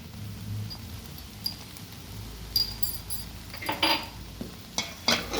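Kothu parotta with egg and onion being stirred on a home stove, with soft scraping and clinks of a spatula against the pan that grow busier and louder toward the end over a low background hiss.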